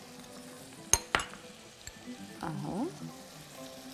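Sausage stirred and fried in a pan with a few greens, with two sharp utensil clinks against the pan followed by a short scraping stir over a quiet background sizzle; a brief spoken word.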